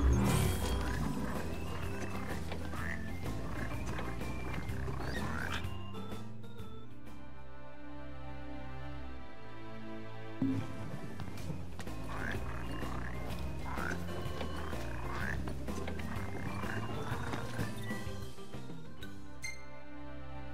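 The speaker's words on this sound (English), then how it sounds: "Only the red frog native to ALSTOR suits my need." Red frogs croak in a swamp in Final Fantasy XV, with repeated rough croaks layered over game music and ambient sound, moderately loud and continuous throughout.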